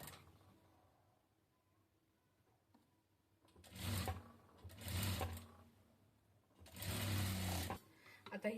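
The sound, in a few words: sewing machine stitching a katori blouse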